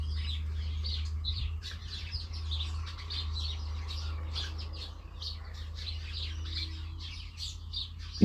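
Many small sparrows chirp busily in a late-autumn vegetable garden, a steady scatter of thin, quick tweets at moderate distance over a low constant hum.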